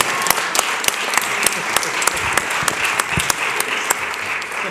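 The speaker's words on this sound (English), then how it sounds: "Give Noelle a big round of applause anyway." An audience applauds at a paid sick leave bill signing in Philadelphia, with scattered sharp individual claps standing out over a steady clapping wash, moderately loud and without talk.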